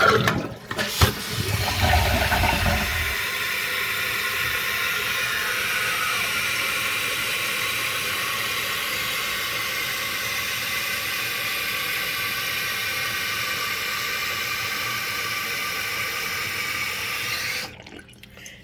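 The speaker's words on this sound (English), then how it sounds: "We're going to test flush it." A Costco Water Ridge C22148C one-piece toilet with a freshly replaced seal flushes with a loud, close rush of water, then settles into a steady hissing refill of the tank that runs evenly until it cuts off near the end.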